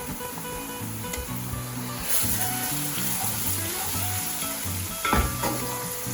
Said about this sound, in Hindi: तो इसमें हम डालेंगे यहाँ पे 1 टेबलस्पून भरकर लहसुन अदरक का पेस्ट।